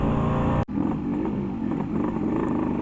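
A Yamaha RX 135 five-speed two-stroke motorcycle revs steadily and loudly up close, its buzzing engine note rising and wavering briefly without any voices.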